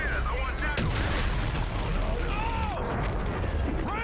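Heavy artillery blasts and gunfire in the video game Call of Duty: Infinite Warfare form a loud, continuous barrage of booms and crackling impacts, with voices shouting over the battle.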